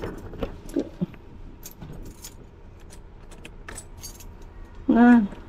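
Keys jangling in short metallic clinks scattered across a few seconds, faint and close, with a louder burst of voice near the end.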